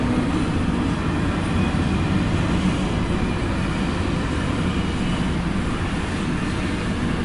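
CSX Q032-19 intermodal freight train passing at Tanglewood, a steady loud rumble of rolling wagons close by; no distinct horn blast stands out.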